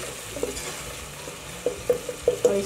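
Spices frying with beef keema in a pan over high flame: a low steady sizzle punctuated by several distinct clacks of a spoon against the pan, close and without talk.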